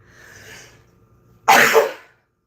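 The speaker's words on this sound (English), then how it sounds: "I'm gonna sneeze again." A single loud, sharp human sneeze bursts out after a soft breathy intake, with a short sibilant tail and then silence.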